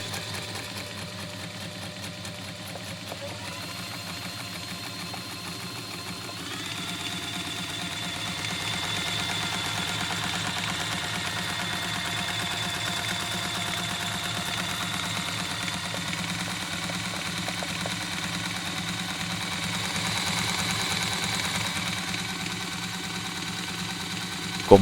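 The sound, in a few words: Brother LS 2125 sewing machine motor speeding up with pedal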